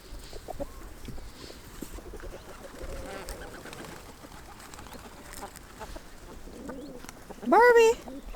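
Hens cluck in a farmyard alongside a chestnut horse, faint and scattered beneath people talking, with a louder rising call cutting in near the end.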